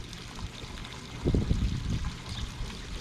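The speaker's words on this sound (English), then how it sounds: "You can hear them burp. This one's burping." Water draining from vegetable garden beds gurgles and burps in a cluster of bubbling glugs, rising in the middle and trailing off over a soft background trickle.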